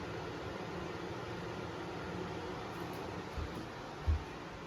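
A Lasko 4924 high-velocity tower fan whirs steadily on speed two, a constant airy hiss with a couple of faint bumps near the end.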